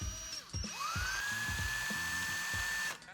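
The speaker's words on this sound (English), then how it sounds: "we're basically just making pilot holes here" A small power drill with a 4.5mm bit bores pilot holes for a reel bracket, a high steady whine that spins up, holds for a couple of seconds and cuts off, with faint low ticking beneath.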